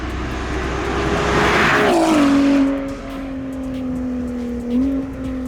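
A second-generation Acura NSX with an aftermarket catless exhaust drives past, its engine tone rising and shifting with a whooshing swell of turbo spool, then settling into a steady mid-pitched drone.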